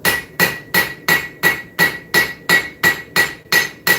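A blacksmith's hammer strikes metal with its cross or straight peen during forging, twelve sharp, evenly spaced ringing blows in steady rhythm, close and loud with no talking.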